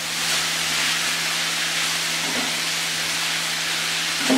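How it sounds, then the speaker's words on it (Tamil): Ginger garlic paste and vegetables frying together in a pan for gobi fried rice, giving a steady, close broadband sizzle and hiss with a faint low hum underneath, no talking. "சேர்த்து எல்லாத்தையும் ஒன்றா ஃப்ரை பண்ணுவோம்"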